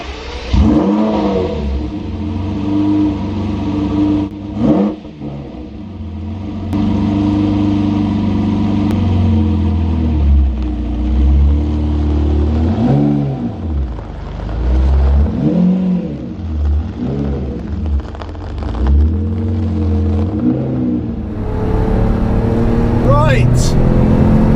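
A powerful Lamborghini Murcielago engine, manual-gearbox car, drones and revs repeatedly as it drives, rising and falling in pitch, with someone talking over it.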